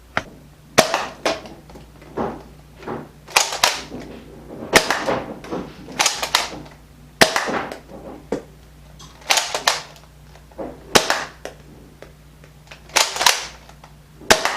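Containment Crew Pro Fit Kronos spring blaster firing pink headshot foam darts, a steady series of sharp, close snapping shots with mechanical priming clacks between them, no voices.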